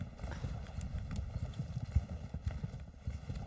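A horse's hooves clip-clop steadily in a farming video game, a quick, even rhythm of soft thuds that stays close and continuous with no talk over it.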